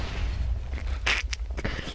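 A TNT cannon blast in Minecraft gives a sharp muffled boom, followed by a few quicker smaller pops over a low steady rumble, with no talking.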